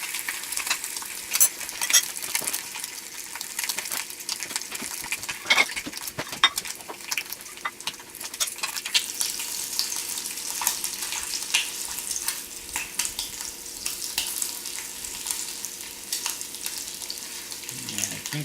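Bacon strips frying in a pan while biscuits bake nearby, a steady crackling sizzle with sharp spits and pops running throughout, close and fairly loud, with occasional scraping and handling noises.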